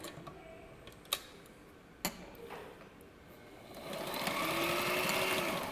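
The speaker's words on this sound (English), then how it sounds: "So I'm going to push down on this lever here after I start sewing for a couple threads." A sewing machine runs in a quiet room with a steady mechanical hum and two sharp clicks as a lever switches it into reverse to lock the stitches, the motor whirring louder toward the end.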